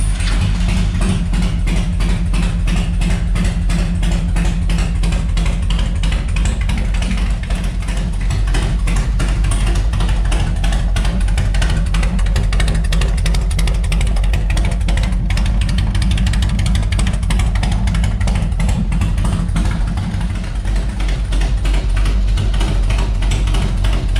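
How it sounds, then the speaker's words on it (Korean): A 2003 Harley-Davidson Heritage Springer 100th-anniversary motorcycle running steadily, a loud, close, continuous engine rumble with dense rapid firing pulses and mechanical clatter that lasts the whole stretch, with no talking. "그럼 엔진 사운드 들어보겠습니다."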